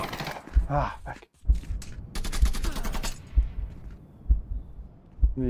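Rapid bursts of gunfire in the VR shooter Onward, sharp cracks in clustered volleys separated by brief pauses, close and punchy with a thudding low end.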